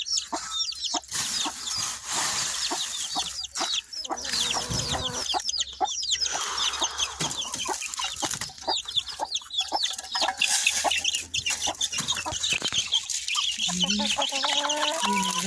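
Chickens cluck steadily throughout, several birds overlapping in a busy, close coop chorus with occasional sharper calls.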